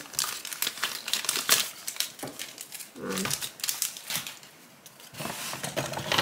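A plastic packet crinkles and rustles in repeated bursts close up, with brief pauses between handlings.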